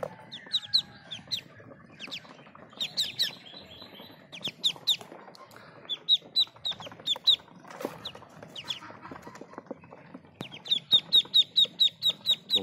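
A brood of Muscovy ducklings peeps again and again in high, thin chirps, in bursts that cluster together and then quicken into a steady run of calls near the end, with no talking.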